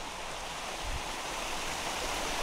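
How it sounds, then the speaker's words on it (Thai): A waterfall beside a deep pool at a campsite near Kanchanaburi gives off a soft, steady rushing hiss, faint and distant and unbroken, with no voices. "นี ่น้ำตกนะคะ เป็นน้ำตกของทางลานสวยมาก"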